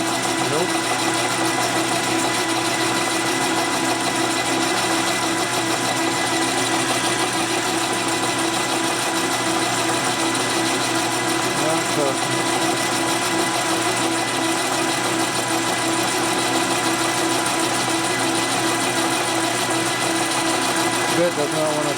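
A cutting bit grinds against a 1946 Harley-Davidson knucklehead motor part, a steady machine whir running the whole time with a faint scraping edge as the bit struggles to cut, and a person speaks now and then over it.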